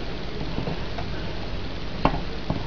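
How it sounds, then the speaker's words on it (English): A spoon stirring homemade chili in a pot, with soft scraping and quiet bubbling, a couple of light knocks near the end, no talk. "I'm gonna just stir this"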